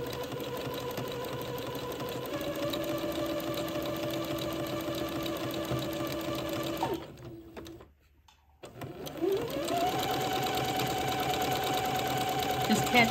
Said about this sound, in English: I have actually already started sewing, zigzagging one of the entredot seams